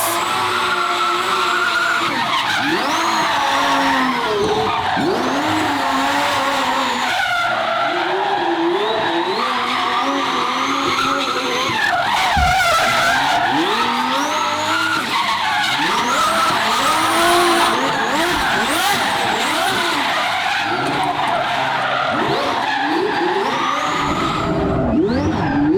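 A twin-turbo Ferrari V12 screams at high revs alongside repeated tire skids and squeals, loud and close throughout, with rising and falling engine pitch and no talking.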